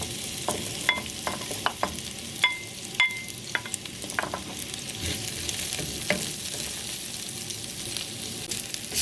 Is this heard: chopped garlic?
yes